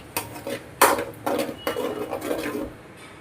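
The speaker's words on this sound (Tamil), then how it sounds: "நம்ம அரைச்சி வச்ச தக்காளியை போட்டுக்கோங்க. நல்லா கிளறி விடுங்க." Ground tomatoes being stirred in a cooking pan for a village-style nookal (kohlrabi) curry, heard as repeated scraping and rubbing strokes at close range, with no voices.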